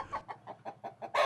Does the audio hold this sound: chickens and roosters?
yes